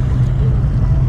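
Steady low engine drone of a boat with wind buffeting the microphone, continuous and fairly loud, no voices.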